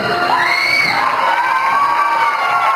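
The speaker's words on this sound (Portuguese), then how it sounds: "Muito bem, uma salva de palmas" A crowd cheers and whoops steadily at a graduation ball during the waltz, a dense, loud mass of voices with shrill shouts rising above it.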